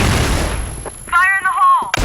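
A grenade explosion in a first-person shooter video game: a loud, close blast that fades quickly, followed by a shouted in-game voice line.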